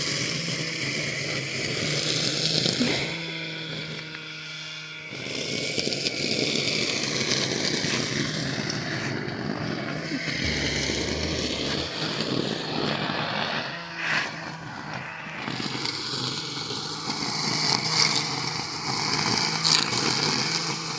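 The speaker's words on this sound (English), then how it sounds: "I'm going through and weed whacking." Small engine of a string trimmer whacking weeds around a farm yard in the woods, a steady droning whine that holds for the whole stretch with slight rises and dips, close and fairly loud.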